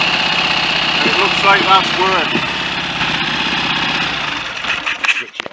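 A Triton motorcycle engine, just repaired after an oil leak, idles steadily up close with a throbbing rumble while someone talks over it; near the end the engine is cut and sputters to a stop.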